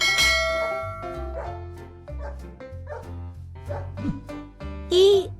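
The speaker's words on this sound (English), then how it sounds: "D is for dog." A dog barks and yips several times in quick bursts, loud and close, with a brighter ringing or whining note near the end.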